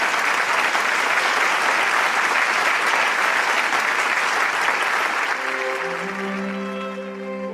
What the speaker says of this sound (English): let us all warmly welcome former Congressman Dan Burton and his wife with a